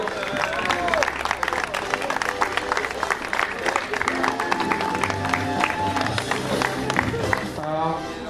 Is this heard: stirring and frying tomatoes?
no